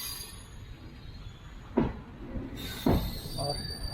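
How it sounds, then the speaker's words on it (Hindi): A passenger train runs on a curve toward Rameswaram near Pamban Bridge, a steady rumble of wheels on rails with two sharp screeching squeals and a high metallic whine, heard from aboard. "हमारी ट्रेन का कर्व आप देख सकते हो,"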